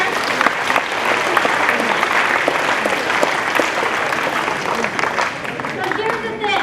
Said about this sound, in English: Can everybody give them a round of applause